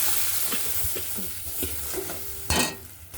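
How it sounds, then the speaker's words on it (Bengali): Mustard and poppy seed spice paste with salt and turmeric frying in hot oil, a dense close sizzle with a few soft stirring strokes and a brief louder burst of hissing near the end. "হলুদ দেওয়ার পরে আমি এই তেলের মধ্যে মশলাটা"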